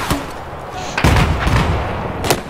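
Gunfire in Battlefield 4 aboard the USS Valkyrie: a sharp shot near the start, then a heavy booming burst of rapid firing with deep thuds and a final crack.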